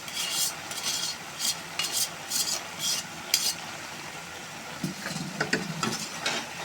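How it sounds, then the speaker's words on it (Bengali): Noodles are tossed and stirred in a hot pan, giving a soft sizzle with repeated scraping and clinking of a utensil against the metal, close and moderately quiet. "এবার নুডলসগুলোকে দিয়ে দিব।"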